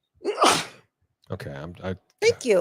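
A person sneezes once loudly near the start, followed after a pause by short spoken remarks from people nearby.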